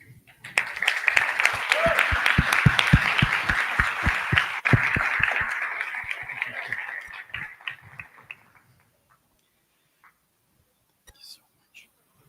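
Clapping from a conference audience on bilingualism after a presentation, a dense patter with a few sharp individual claps standing out, fading around eight seconds into near silence with faint stray sounds.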